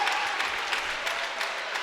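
A basketball crowd of Panthers fans at a college game between High Point and Hampton gives a steady wash of applause and cheering as a player heads to the bench, dense and continuous throughout.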